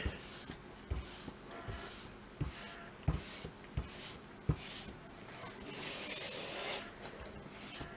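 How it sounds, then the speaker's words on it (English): A small microfiber towel wipes the surface of a comic book in a steady series of soft, close rubbing strokes, roughly one per second, ending in a longer, brighter swipe. "Wipe it down again. And this is a microfiber, a small microfiber towel I picked up."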